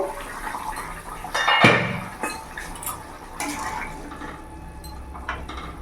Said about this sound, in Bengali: কিছুক্ষণ ঢাকা দিয়ে রেখেছিলাম, এবার ঢাকা খুলে দেখবো।